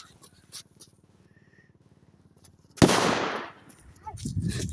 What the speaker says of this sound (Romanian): Stai să dea și ăsta o petardă.